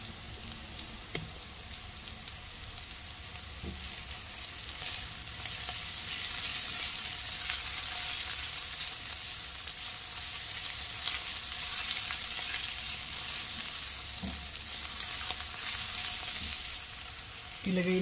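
Chicken adobo frying in a pan, a steady broadband sizzle that holds throughout with a few faint clinks and scrapes, close and even in loudness.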